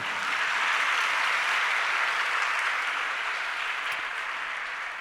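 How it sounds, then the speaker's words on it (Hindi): Steady, dense applause from a large crowd at a Jain religious discourse gathering, even and continuous throughout with no voices over it. "अब देखो, ताली भी बज रही है लेकिन कोलाहल जैसा मुझे नहीं लग रहा है"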